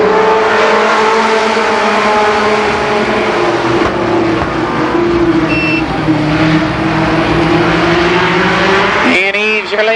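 ARCA Pro 4 race cars roar loudly and continuously around the oval at Columbus Motor Speedway, engines droning and shifting pitch as they pass, with a brief rising whine near the end.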